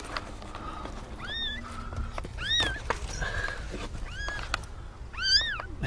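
Newborn kitten meowing in short, rising-falling calls, about six separate cries spread over several seconds, fairly close against a soft background hiss with no talk.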